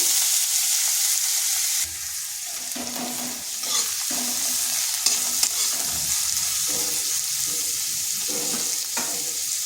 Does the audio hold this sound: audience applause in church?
no